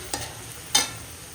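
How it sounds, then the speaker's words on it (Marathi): Moth beans (matki) sautéing in oil with onion, turmeric and coriander in a home kitchen give a low sizzle, broken by two quick scraping spatula strokes a moment apart. No speech. "आणि आता मटकी परतून घेत आहेत."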